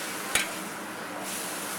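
Meat for hot and sour soup sizzles in a wok with a steady frying hiss, broken early by one sharp clack of a spatula against the pan.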